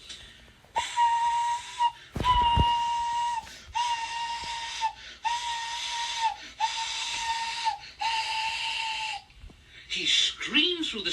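A green steam engine whistles in a series of about six long, loud blasts, each a sustained shrill tone with steam hiss, separated by short pauses, with a brief burst of noise early on.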